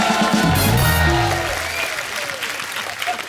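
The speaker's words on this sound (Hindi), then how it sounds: "जोरदार तालियां" Studio audience on The Kapil Sharma Show, a TV comedy show, breaking into loud sustained clapping and crowd noise, with voices and music tones mixed in at the start.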